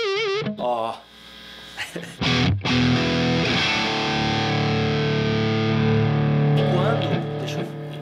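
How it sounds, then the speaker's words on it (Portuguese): Electric guitar, a Telecaster with a Strat-like tone, played through a distortion effect: a few plucked notes, then sustained, thick, buzzing chords ringing loudly with a faint hum beneath, while a voice briefly exclaims. "ela tem um som de distorção"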